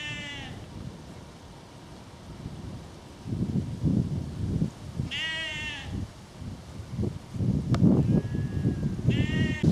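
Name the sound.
sheep bleating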